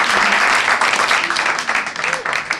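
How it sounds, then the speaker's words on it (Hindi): Students in an English-grammar class clapping for themselves, loud dense applause from a roomful of hands, close and sustained, with a voice briefly heard through it. "दोनों ही अपने लिए ताली बजाओ,"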